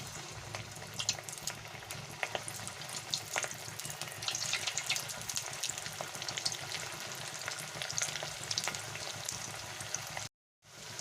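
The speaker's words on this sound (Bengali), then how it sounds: "সাদা তেলে ভেজে নেব কাবাবগুলো" Stuffed pointed gourd kebabs fry in hot white oil, giving a steady, loud sizzle with scattered pops and crackles throughout before cutting out abruptly near the end.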